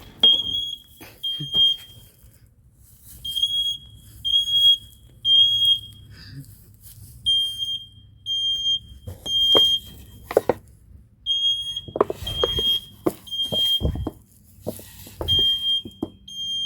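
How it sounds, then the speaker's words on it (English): A smoke alarm gives repeated high-pitched beeps in a steady rhythm that continues the whole time, with scattered knocks and handling noises in a room and only a little talk. "What the fire alarm going off?"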